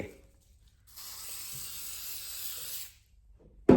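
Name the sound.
spraying olive oil hair spray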